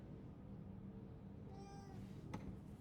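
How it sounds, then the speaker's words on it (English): A pet cat meows in a short rising-and-falling cry in the middle distance, heard over a steady low room hum with no talking, followed by a brief faint thump. "I apologize if you can hear my cat."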